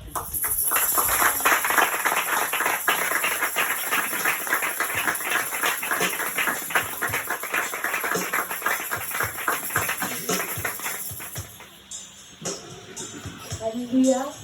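A church congregation claps in a steady rhythm throughout, the sound full and fairly close, gradually thinning out near the end as the clapping fades.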